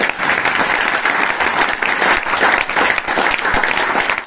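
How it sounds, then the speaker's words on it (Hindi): An audience at a business seminar breaks into loud, sustained clapping, a dense crowd of hands sounding close and even throughout before stopping abruptly. "एक बार ताली बजा सकते हैं आप?"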